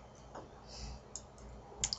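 A computer mouse clicks through a setup wizard: a few light, quiet clicks spread across two seconds, the sharpest pair near the end, with no talking.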